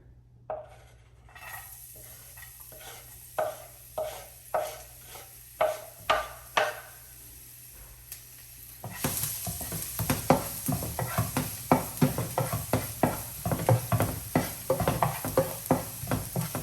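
Chopped garlic stirred and sautéing in a pan for a beef cannelloni, with a low sizzle broken by repeated scraping stir strokes that become louder and busier as the frying grows more intense partway through.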